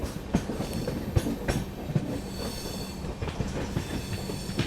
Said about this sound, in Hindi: अपनी ट्रेन जो है स्किप कर रही है न्यू कूच बिहार जंक्शन